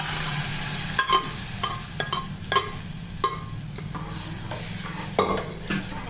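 Mung bean masala fries and sizzles in a pan while a spoon stirs it, steady crackling sizzle broken by repeated scraping strokes every second or so, close and alone.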